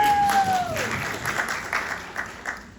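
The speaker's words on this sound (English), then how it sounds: "Yes, that deserves an applause." A brief round of applause from a small audience, with a descending whistle-like tone at the start; the clapping fades out gradually.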